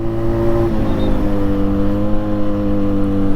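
A motorcycle speeds along the Kathmandu–Chitwan highway, its engine close and loud in a steady droning hum, the pitch shifting slightly as it runs at high speed. There is no speech.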